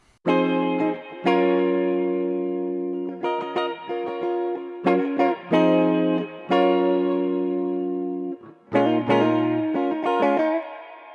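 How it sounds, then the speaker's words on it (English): An electric guitar played through a reverb plugin plays a slow melodic phrase of sustained notes, each ringing out into a long, lush reverb tail. "you can hear that nice tail there and sort of hear what the reverb actually sounds like"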